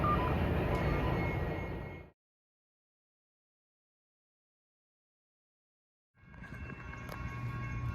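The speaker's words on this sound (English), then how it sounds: "Approaching at 11:09 is train 505, limited." A Caltrain limited train approaches a station with loud rolling rumble and faint tonal horn-like lines, cutting to complete silence for several seconds before the train noise returns.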